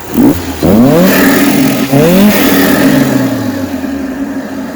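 A Peugeot 106 with a homemade turbo engine revs hard in close, loud bursts, its pitch sweeping up and falling back twice before settling into a rough, fading idle.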